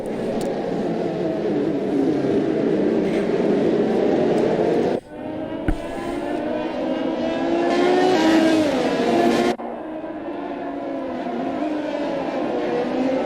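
Race cars in a racing video game pulling away on the formation lap at Jeddah, a steady engine drone with rising and falling revs, briefly cut off twice by sharp breaks before resuming.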